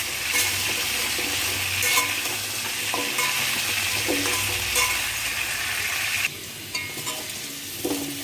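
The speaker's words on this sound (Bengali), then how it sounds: "কচু আর আলুটাকে এবার ভালো করে ভেজে নেব।" Taro and potato frying in a pan of oil, a steady loud sizzle with periodic scraping stirs roughly every second, close up and without any voices.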